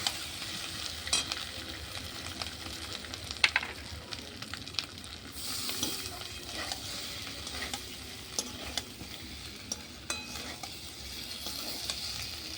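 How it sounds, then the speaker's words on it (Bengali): Soft sizzling of spices and potatoes frying in a pan over a clay stove, with scraping stirs and occasional clatters of a utensil, fairly quiet and close. "সমস্ত মশলা ভালো করে আবার আলুর সাথে কষিয়ে নেব"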